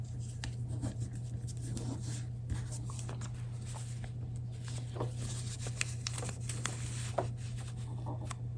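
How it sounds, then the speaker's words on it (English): Paper is torn back along a stitched line for foundation paper piecing, making a steady close, soft rustling and crackling with small tearing ticks under a low background hum. "tearing the paper to get to the line."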